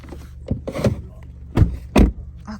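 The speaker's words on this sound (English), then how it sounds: "I just closed that back door." A car's back door slams shut with a couple of solid thumps during a snowstorm, heard close and mixed with low engine rumble and faint voices.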